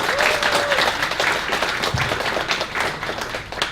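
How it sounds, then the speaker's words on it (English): An audience at a public lecture applauds its speakers with a steady, dense burst of clapping that carries on without pause, heard close and fairly loud. "Please give round of applause for our speaker."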